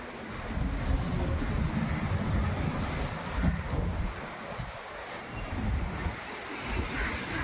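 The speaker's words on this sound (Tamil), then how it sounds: "ஆளு தூக்குது காத்து" Steady roaring wind buffets the microphone, a dense, constant rush of air and rain noise that stays loud throughout with no speech.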